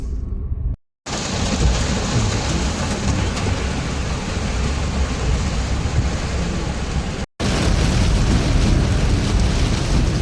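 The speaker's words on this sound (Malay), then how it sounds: "Hujan guys, hujan lebat." A loud, steady roar of heavy tropical rain on a flooding road pours down without letup, broken only by two very brief dropouts.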